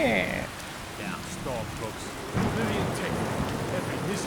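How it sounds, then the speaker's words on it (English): Rain falls in the Skyrim video game, with a steady hiss, a low rumble of thunder and several chirps and tones sounding over it, with no voices. "Ah, it's raining."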